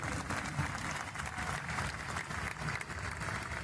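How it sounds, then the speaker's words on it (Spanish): An indoor audience claps together in a dense, steady burst of applause, fairly close and continuous for a few seconds without cheering. "Aplauso."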